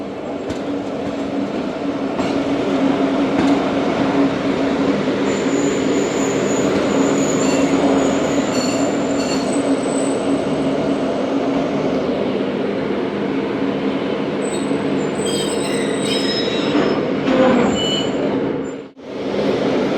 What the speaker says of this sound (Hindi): बावलपुर रेलवे स्टेशन अप्रोच कर रही है ट्रेन